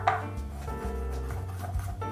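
A knife chops garlic on a cutting board in a budget vegan home kitchen, a few soft, close taps and knocks spread across a couple of seconds, quiet and alone.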